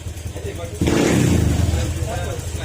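A misfiring Honda Click scooter engine idles, then suddenly revs up loudly and holds a rough, throaty roar close by, with a voice speaking over it.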